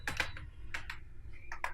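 Keys clatter on a computer keyboard as code is typed, a few quick clustered bursts of close clicks separated by short pauses, with no talking.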